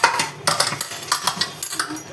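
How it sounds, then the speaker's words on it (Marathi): Breakfast dishes, pots and utensils being washed: quick irregular clinks and clatters of metal and ceramic knocking together, close by, with no talk. "भांडी घासते नाश्त्याची"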